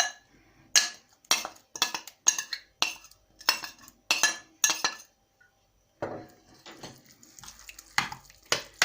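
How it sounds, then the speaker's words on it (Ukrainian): Grated potato batter for liver fritters is stirred in a bowl, a series of quick rhythmic scraping and clinking strokes of a utensil against the dish, briefly pausing, then resuming in faster, lighter strokes. "То все перемішую ретельно і додаю до борошну."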